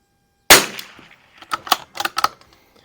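A single sharp crack from an Anschutz Biathlon 1827 .22 rifle, loud and close, decaying quickly, followed by several quieter metallic clicks and clacks of the bolt being worked.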